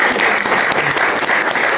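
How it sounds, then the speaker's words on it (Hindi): Dense, steady applause from an audience at a DXN business gathering, many hands clapping continuously and loudly with no pauses throughout. "एक भरपूर किस्म की तालियां मेरी तरफ से आप लोगों के लिए"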